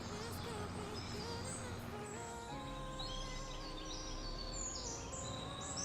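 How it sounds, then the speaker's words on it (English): Birds chirp faintly in a field in Farming Simulator 25, scattered calls and tweets sounding over a quiet steady game ambience, with a voice speaking briefly. "There's a lot of birds over by this field"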